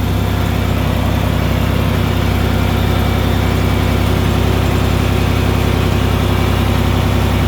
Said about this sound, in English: I probably need to give it a little time for the hydraulic pump to build the pressure.